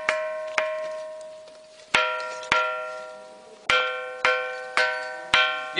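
A rock at the Mahakali temple in Ahmedabad is struck about nine times at irregular intervals, each hit giving a sharp metallic clang that rings on like a bell and fades, close and clear with no talk.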